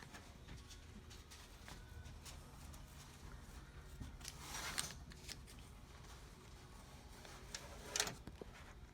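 Duck-bill scissors snipping through applique fabric, faint close-up cuts with a few soft crisp snips and two louder clipping strokes near the middle and end, set against quiet room noise.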